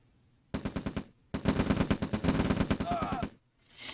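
Riflemen trade rapid automatic gunfire in the real-time strategy game OpenRA Red Alert: two loud bursts of evenly spaced shots, a short one and then a longer sustained stream, with brief quiet before and after.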